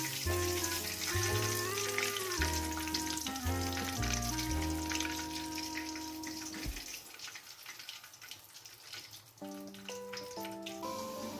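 Steady crackling sizzle of food frying in hot oil, continuous and close, with background music playing throughout.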